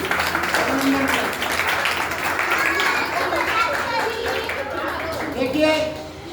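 An audience at a Radha Ashtami religious discourse applauds a birthday greeting. Scattered clapping mixes with crowd chatter and children's voices, fairly close and lively, and tapers off near the end.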